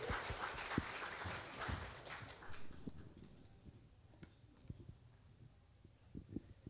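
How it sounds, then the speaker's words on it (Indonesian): Applause from the audience at a Christmas gathering, loud at first and then thinning into scattered, fainter claps before fading. "Boleh berikan tepuk tangannya kakak abang semua."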